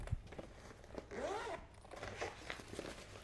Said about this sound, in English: Nice, smooth zippers.